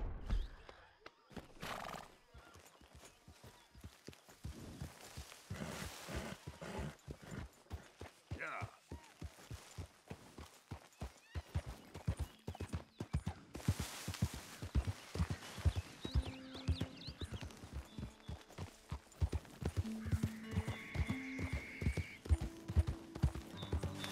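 A horse ridden across open country in Red Dead Redemption 2 drums out a steady, close clip-clop of hooves that quickens at times, with a whinny or two breaking through and a voice heard now and then.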